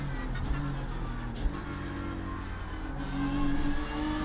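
BMW M4 GT3 race cars in an iRacing sim race at Road America roar past under a steady engine drone, with brief bursts as the cars go by; no talk.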